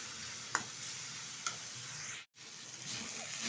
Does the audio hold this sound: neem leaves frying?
yes